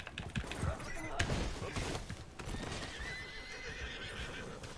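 A horse in a video game whinnies and gallops with rapid hoofbeats amid game effects, while a player talks over the action.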